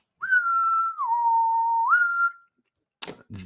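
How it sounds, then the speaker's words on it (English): A single long whistled tone, bending down and back up, sounds clearly on its own, followed by a short burst of noise. "I don't know what that whistle was."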